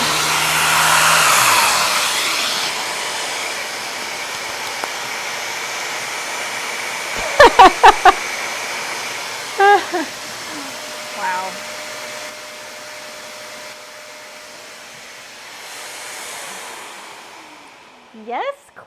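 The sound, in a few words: sander running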